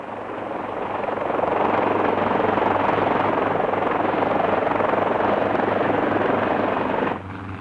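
A helicopter flies over a rocky, barren island, its rotor and engine roaring loud and steady for several seconds before the noise drops away abruptly near the end.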